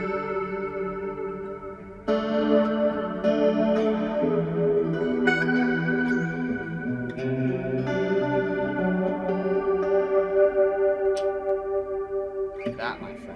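An electric guitar plays slow ringing chords with a shimmering chorus, heavy reverb and echoing repeats, creating a dreamy wash of sound.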